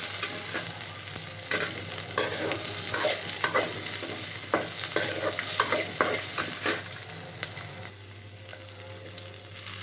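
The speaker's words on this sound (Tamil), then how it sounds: "இப்போது நறுக்கி வச்சுருக்கிற வெங்காயம், பச்சை மிளகாய் எல்லாத்தையும் ஒன்றா சேர்த்து வதக்கிக்கலாம்." Chopped onions and green chillies sauté in a hot pan, a steady close sizzle broken by the scrape and clatter of stirring throughout.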